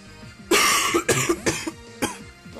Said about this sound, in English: I've had the worst cough for like 4 days now, and nothing's helped.